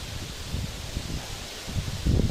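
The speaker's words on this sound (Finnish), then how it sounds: "Tuulee." Wind gusts rustle through roadside bushes at night on a walk from Forssa to Jokioinen in Finland, a steady low rushing noise that swells louder toward the end, with no voices.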